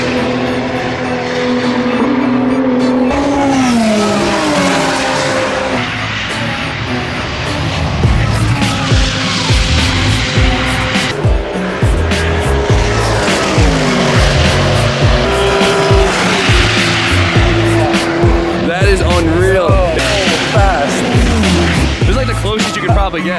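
Race cars howl past at high speed, engines rising and falling with tire squeal and skidding, loud and close, one after another with a near-constant roar; some talk mixes in.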